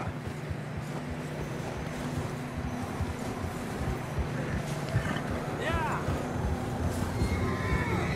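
A horse whinnies in Red Dead Redemption 2, a short rising-and-falling neigh partway through, set in a dense, noisy game soundscape with voices and movement throughout.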